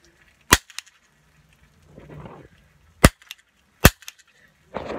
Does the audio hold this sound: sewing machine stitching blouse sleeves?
no